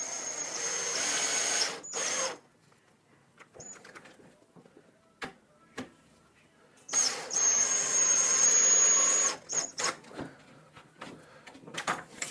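Power drill driving screws for a door latch keeper on a passage set: two short whirring bursts of the drill, close and fairly loud, separated by a quiet gap with a few clicks and taps.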